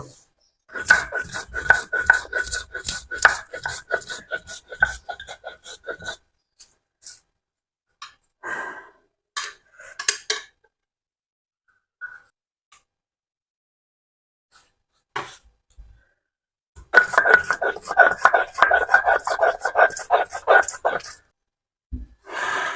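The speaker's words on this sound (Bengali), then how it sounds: "এবার মশলাগুলো একটু বেটে নিব" Spices ground by hand on a grinding stone for a beef dish, with rapid rhythmic scraping and rubbing strokes in bursts, separated by pauses with heavy breathing, then a final long burst of grinding.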